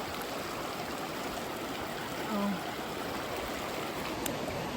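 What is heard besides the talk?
river water flowing behind the house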